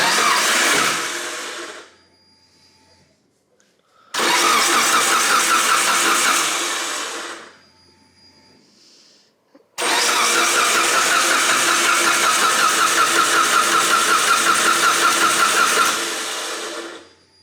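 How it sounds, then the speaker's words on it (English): A Mitsubishi Lancer Evolution 8 engine cranking and firing up for its first start, loud and close in three bursts: a short run, a pause, a longer one, then a sustained roaring idle that cuts off. "this is the official first start for the EVO"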